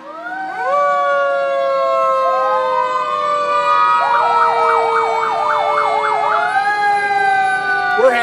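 Loud fire truck sirens wail nearby during a Christmas parade in Wells, Maine, long rising and falling tones joined midway by a rapid yelping pattern, with no talk.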